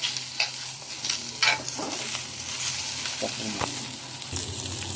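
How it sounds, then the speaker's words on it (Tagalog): Water spinach (kangkong) adobo frying in a pan, with a constant close sizzle and several scrapes and stirs of the utensil, a faint voice now and then underneath. "Adobong kangkong pala to guys ha. Lulutuin ko ngayon."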